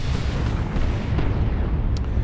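Whirlwind artillery tank fires in the Dawn of War II: Retribution strategy game with a dense, rumbling barrage of heavy booms and explosions that roll continuously and loudly from start to finish, no voices on top.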